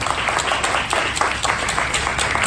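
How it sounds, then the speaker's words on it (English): An audience breaks into sustained applause, many hands clapping together in an even, lively burst that holds steady throughout. "One more round of applause for you guys again."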